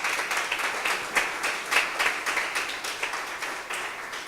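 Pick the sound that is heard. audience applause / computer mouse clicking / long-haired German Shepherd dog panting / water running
audience applause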